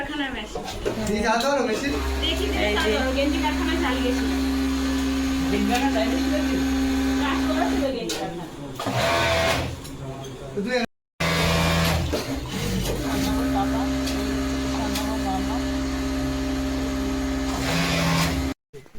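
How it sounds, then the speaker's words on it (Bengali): A garment-making machine knitting vests runs with a steady mechanical whir and hum, loud and continuous, with a brief pause partway through and a voice speaking over it. "এই বসেছে মেশিনে। মেশিন গেঞ্জি তৈরি করবে বলে।"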